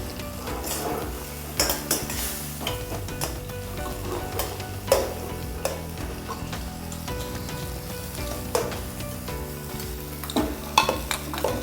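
Ingredients fry in a pan for hotel-style sambar with a constant close sizzle, while a utensil stirs and scrapes against the metal in frequent clinks and knocks.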